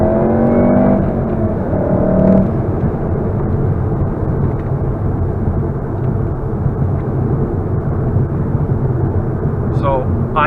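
Volkswagen Golf R engine note, boosted by a speaker that vibrates the windshield, gives a steady loud drone throughout with a brief rising whine near the start and end.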